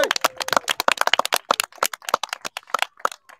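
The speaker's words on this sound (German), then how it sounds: "Einmal Applaus." A small outdoor crowd at a rooftop-tent pop-up meetup in Goldenstedt claps in a brisk, uneven burst of sharp, close hand claps lasting a few seconds, with no talking.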